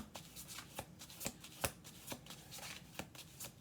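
Tarot cards handled and shuffled up close, a quick run of crisp papery riffles and soft clicks in an uneven rhythm, with no one speaking.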